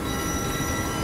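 A train rushes past in the Assassin's Creed Unity video game, a steady, loud broadband roar of rolling rail wagons with wheel squeal filling the whole short moment, with no voices over it.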